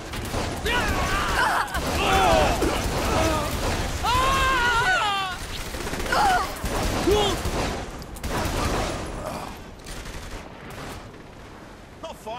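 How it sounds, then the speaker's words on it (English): Gunfire in the video game Saints Row the Third rattles in bursts underneath several voices trading lines, with the shots fading lower toward the end. "just shoot them, Pierce."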